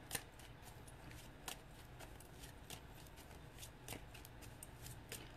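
Tarot cards are shuffled softly, giving faint, crisp riffling snaps at irregular intervals over a quiet room background.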